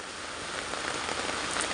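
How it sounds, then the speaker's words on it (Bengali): Steady rain falls without a break, giving a soft even hiss of drops on surfaces in a wet street, with no voices. "রোজ গেলেই বৃষ্টি, আর কি পরিমাণে বৃষ্টি হচ্ছে"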